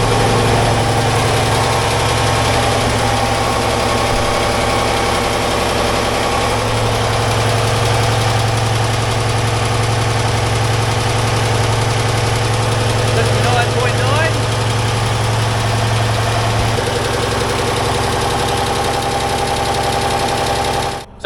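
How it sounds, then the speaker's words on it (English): A boat's idling engine carried up from the engine room through the throttle conduits, a steady, loud low hum and drone lasting throughout with no clear change in pitch. "we actually get sound from the engine room coming up through the throttle"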